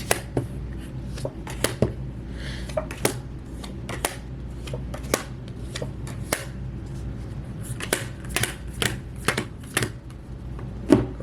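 Tarot cards are shuffled and pulled in a quiet room, giving quick, close, irregular papery snaps and riffles, fairly faint, with no talking.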